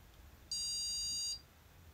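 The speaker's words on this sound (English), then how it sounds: "tap on the nozzle on the beep" A Prusa MK4 3D printer emits one clear, steady electronic beep lasting under a second during load cell calibration, loud and close over a quiet background.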